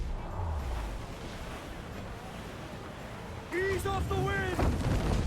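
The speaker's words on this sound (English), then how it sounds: "I probably shouldn't have gone straight into the mortar fire" Mortar fire explodes around a sailing ship in Assassin's Creed IV: Black Flag, a dense rumbling wash of blasts and water spray with a louder burst near the end as a voice shouts orders over it.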